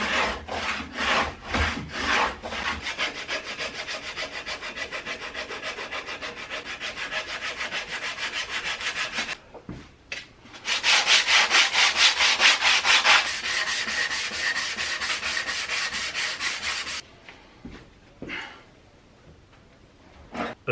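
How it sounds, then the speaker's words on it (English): Power saw beveling the edges of four plywood sheets clamped together in a garage for scarf joints, loud steady rasping cuts in two long bursts separated by a short pause, with faint scattered knocks at the end. "Back in the garage, I clamped 4 sheets together to bevel them, becoming parts of 2 scarf joints."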